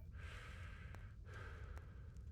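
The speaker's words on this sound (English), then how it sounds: "You can hear Henry heavy breathing." The character Henry breathes heavily in the video game Kingdom Come: Deliverance: two long, close, rasping breaths about a second apart over a constant low game background rumble.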